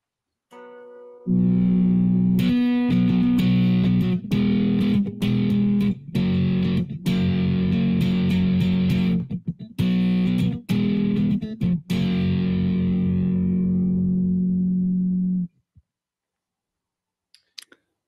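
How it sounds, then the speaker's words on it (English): Heavily distorted six-string electric kite guitar rings out in sustained chords with quick choppy breaks, loud and close, then fades to silence near the end. "on the kite guitar, this is an electric version, six strings"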